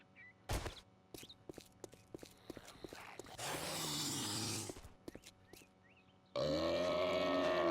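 A zombie in the video game 7 Days To Die grunts and burps in rough, guttural bursts between clattering game effects and a long noisy rush, ending in a loud, sustained growl.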